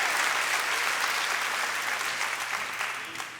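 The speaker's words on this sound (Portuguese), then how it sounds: "Então dá uma salva de palmas ao Senhor" A church congregation bursts into sustained, dense applause that fills the room at a steady level, then thins slightly toward the end.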